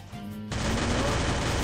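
Gunshots in the mobile battle royale game Free Fire, a loud dense burst of rapid gunfire that starts abruptly and continues steadily for over a second, close and without talk.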